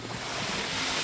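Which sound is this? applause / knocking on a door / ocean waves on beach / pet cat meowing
ocean waves on beach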